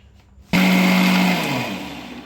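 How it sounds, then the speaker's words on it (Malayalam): A mixer grinder roars to life and beats brownie batter, a loud, steady motor whine with a spinning hum that starts abruptly and runs on alone, easing off slightly near the end. "പക്ഷെ നല്ല ഫ്ലഫി ആയി കിട്ടണ്ടാച്ചിട്ടാണ് നമ്മൾ മിക്സിയിൽ ബീറ്റ് ചെയ്യുന്നത്"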